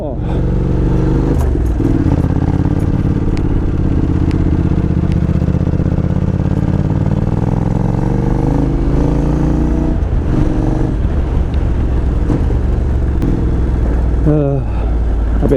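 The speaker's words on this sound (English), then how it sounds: "I best be kind to the bike going up this part where it's all washed and rutted" A Honda NC750X motorcycle labours up a washed-out, rutted dirt track, its engine droning loud and close with steady revs and some clatter throughout.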